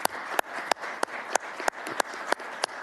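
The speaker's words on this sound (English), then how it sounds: "So if you could join me in a round of applause." Sparse applause at an Elbert County commission meeting: a small group claps in thin, even strikes with regular sharp accents, fairly quiet and brief, with no voices over it.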